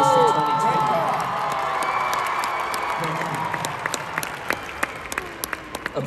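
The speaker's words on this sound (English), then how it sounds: "Applause is great" Concert audience at a Christian winter event applauding and cheering, a dense wash of clapping with a few whoops that slowly thins out over the seconds, with some voices mixed in.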